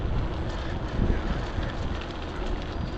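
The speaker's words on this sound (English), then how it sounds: "You don't want to be on this side of that silly train" A train passes close by, a heavy, continuous low rumble with wind buffeting the microphone, swelling briefly near the middle and holding steady to the end with no talk.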